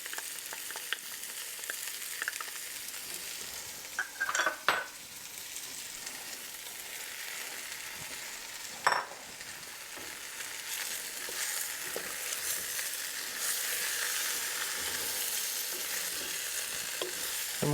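Garlic and onions frying in a pot with browned lamb for a stew, giving a faint continuous sizzle, with occasional sharp utensil scrapes and knocks against the pot, close by and with no talk.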